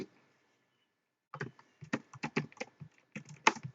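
Typing on a computer keyboard while writing PHP code, a quiet burst of separate key clicks in an uneven rhythm after a short silence, close and without talk.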